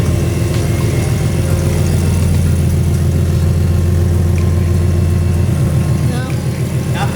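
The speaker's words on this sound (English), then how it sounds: "The turbo's spinning." A BMW M4 Competition fitted with a big turbo idles steadily, a loud low throbbing engine rumble with a pulsing exhaust note, while people talk over it.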